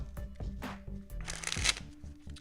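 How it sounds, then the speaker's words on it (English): Playing cards are table shuffled in a card magic practice session, with quick riffling bursts and soft taps as the deck is squared, close and fairly quiet. "I'm going now for a little table shuffle here"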